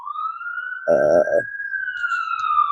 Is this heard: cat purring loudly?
no